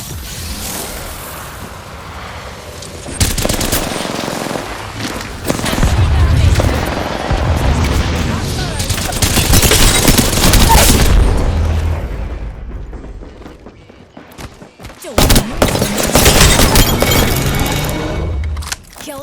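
Gunfire and explosive booms in the battle-royale shooter Apex Legends, loud dense bursts and blasts crowding most of the stretch, with brief quieter gaps between heavy volleys.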